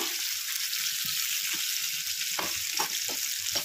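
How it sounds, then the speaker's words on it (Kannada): Onion frying in oil in a pan for a North Karnataka–style brinjal dish, with a steady close sizzle and a few scrapes from stirring, no voices. "ಸ್ವಲ್ಪ ಎಣ್ಣೆ ಚಂದ ಉಳ್ಳಾಗಡ್ಡಿ ಕೆಂಪು ಆಗೋದನ್ನ ಚಂದ ಕಲಿಸ್ತಾ ಇರ್ರಿ"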